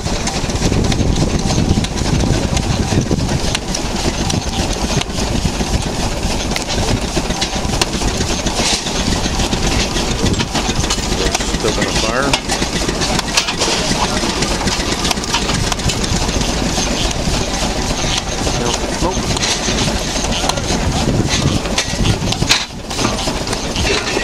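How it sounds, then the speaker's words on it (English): A rock crushing machine grinding up concrete rumbles with a loud, continuous mechanical drone, heavy and unbroken throughout, with a brief dip near the end and no speech. "We got a rock crushing machine down there and it's crushing concrete."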